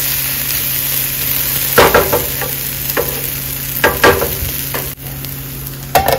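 Poha with potatoes frying in a pan gives a steady close sizzle, broken by a few louder scraping stirs of the spatula. No one speaks.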